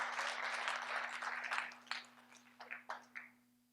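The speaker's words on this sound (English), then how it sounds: "Give them a round of applause." Seminar audience giving a round of applause for participants in a group exercise, a burst of clapping that thins out into a few scattered, separate claps as it fades, with a steady electrical hum underneath.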